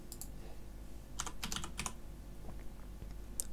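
A computer keyboard clatters as a password is typed for a Kali Purple virtual machine, short bursts of close keystrokes in quick clusters with pauses between them, quiet and alone.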